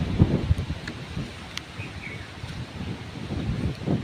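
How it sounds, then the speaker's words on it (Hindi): Strong wind gusts blow under mango trees in a village, rumbling and buffeting the microphone in uneven surges, with faint rustling and an occasional distant bird over a steady outdoor hiss. "बहुत तेज़ हवा चल रही है उधर से।"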